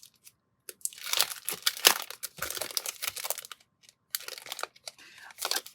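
Paper scraps are crumpled and crunched up close in a series of crinkling, rustling bursts, with short gaps between handfuls during tidying after crafting.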